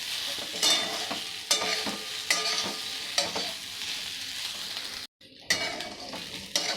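Fenugreek vadi sautéed in a pan gives a steady close sizzle broken by repeated scraping strokes of a spatula against the pan, then a brief silence before the frying and stirring resume.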